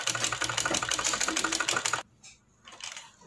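A sewing machine runs a rapid, steady stitching burst along a kurti's shoulder seam, then stops abruptly, leaving a quieter gap with a few faint handling sounds.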